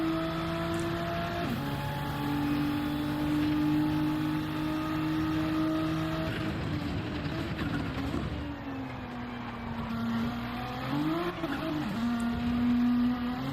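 Race cars in a Fuji 8-hour GT endurance race howl past one after another, engine notes rising and falling through gear changes with brief tire squeal, loud and continuous without voices.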